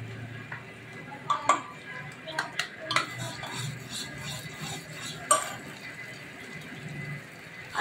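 Cashew, sesame, poppy and melon seed paste being roasted in a pan for chicken curry, with scattered metallic clinks and scrapes of a spoon stirring against the pan over a soft background.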